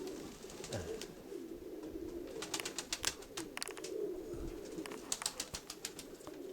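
Pigeons coo in a loft, low soft burbling calls that roll on steadily, mixed with frequent sharp clicks and flutters from the birds close by.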